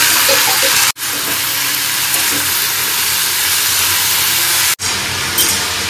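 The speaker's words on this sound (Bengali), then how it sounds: "এখানে আলুটা ভাজা হচ্ছে, হোক।" Potato and pointed gourd pieces fry in a little hot oil, producing a loud, close, unbroken hiss of sizzling, interrupted by two short sudden cuts.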